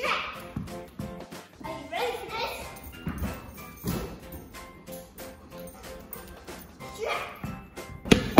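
A pet dog barks repeatedly at home, the loud yaps coming in uneven bursts over several seconds, mixed with a voice and household noise.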